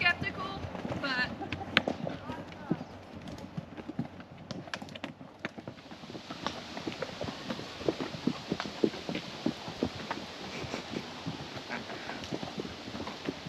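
Hooves of a ridden horse clip-clop steadily on a trail near the Grand Tetons and Jackson Hole, close and fairly quiet, with scattered talk from riders between the footfalls.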